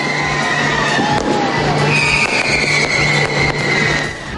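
Fireworks display over the crowded streets of Binondo during Chinese New Year celebrations, a dense continuous wash of crackling and popping bursts with a steady loud roar and faint tonal whistles running through it.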